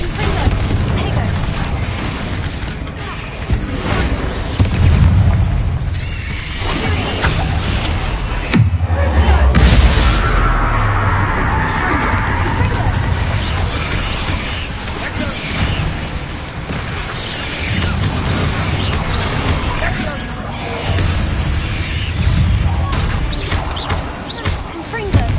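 Blasting-spell explosions in the video game Hogwarts Legacy, several heavy booming blasts over a rumbling battle with wind and a voice talking at times.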